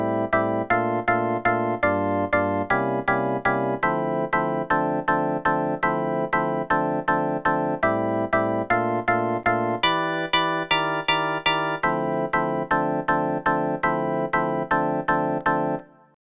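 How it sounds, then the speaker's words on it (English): Organ 2 synth patch plays a steady chord riff with even, punchy repeated stabs throughout, part of a remake, loud and clear with no voices. "The patch that I selected is called Organ 2 and it sounds like this."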